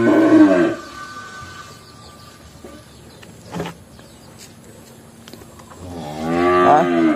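Sindhi and Brahman cattle at a farm sale, with a loud, close, drawn-out moo opening the scene and another rising moo near the end. Quieter ambient noise and a brief knock fall between them.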